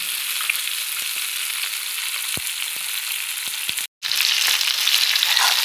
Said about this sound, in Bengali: তো বন্ধুরা দেখো একটা পোর্শন ভাজা হয়ে গেছে, এবার উল্টে দিচ্ছি।